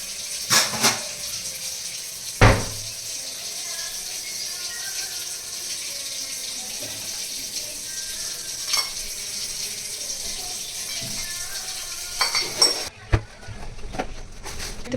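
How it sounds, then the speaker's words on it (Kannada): Dishes are scrubbed and rinsed in a kitchen sink, with running water hissing steadily and a few sharp clinks and knocks of utensils scattered throughout, close and moderately loud. "ಪಾತ್ರೆ ಎಲ್ಲ ತಿಕ್ಕಿ ತೊಳೆದಿಟ್ಟೆ."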